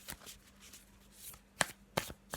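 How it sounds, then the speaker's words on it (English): An oracle card deck being shuffled close by, with soft papery riffles and several sharper card snaps toward the end. "Just going to have a little shuffle of... I'm using the Nature's Whispers Oracle deck again."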